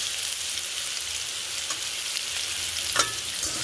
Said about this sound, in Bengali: হলুদটা দিয়ে বেশ ভালো ভালো করে ভেজে নেব